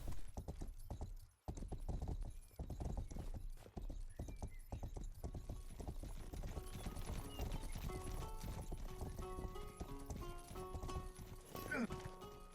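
Horse hooves clip-clop in the medieval video game Rustler, a rapid, steady rhythm of close hoofbeats with a brief gap, later joined by a whinny and a tonal game soundtrack, with someone talking intermittently.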